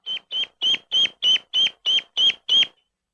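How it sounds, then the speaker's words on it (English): A newly hatched chick repeats a distress call, nine evenly spaced, high, piercing peeps at a steady rhythm, close and clear, then silence. "the bird gets its bearings and makes what sounds like a distress call"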